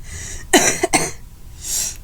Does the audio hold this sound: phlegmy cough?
yes